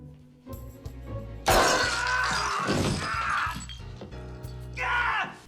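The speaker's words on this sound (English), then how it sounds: "stepping on the glass ornaments" Glass ornaments shatter and crunch underfoot in a loud burst of breaking glass, followed by further crashing and tinkling debris and a second smash near the end, over a low background hum.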